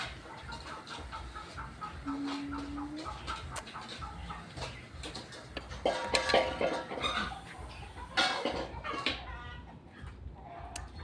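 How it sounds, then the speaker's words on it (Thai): Chickens clucking and calling at a moderate distance, several birds overlapping in an irregular stream, with other faint outdoor noise and a brief tonal whine. "ตอนเย็นๆมาเสียงไก่เยอะมากเลย"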